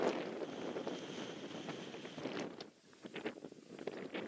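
Wind gusts across an open cricket ground, a steady broadband rush buffeting the microphone, easing briefly before rising again, with no talking.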